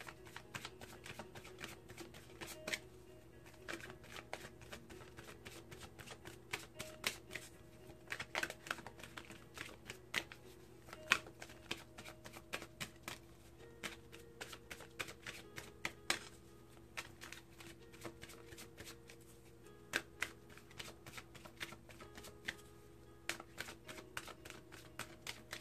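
Gateway Oracle cards being shuffled in the hands, a quiet, irregular series of soft flicks and rapid riffling taps, close and faint, continuing throughout without speech.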